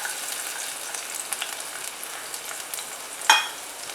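Garlic and green cardamom frying in oil in a pan, a soft steady sizzle with small crackles and one brief sharper clink near the end, quiet and with no talking.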